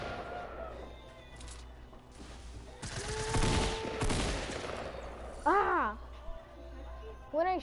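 Bursts of rapid gunfire from a shooter video game, dense crackling volleys in the middle with some later shots, mixed with game sounds while a player talks over it.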